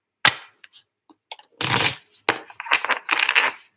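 Tarot cards being shuffled by hand, close and crisp, with an initial snap followed by several bursts of riffling and crunching card noise in an uneven rhythm.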